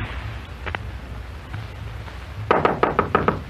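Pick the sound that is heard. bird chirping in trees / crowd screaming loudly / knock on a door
knock on a door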